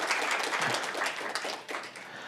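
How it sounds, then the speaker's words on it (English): Audience gives a quick round of applause for speakers at an open data lightning talk event, with full, continuous clapping from a crowd lasting a couple of seconds. "can give our speakers just a quick round of applause for being so cool today"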